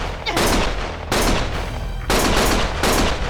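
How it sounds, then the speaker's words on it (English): Heavy automatic gunfire in the video game Lost Judgment: dense, loud bursts of rapid shots that roar almost without a break, with short dips between volleys. "Stop shooting!"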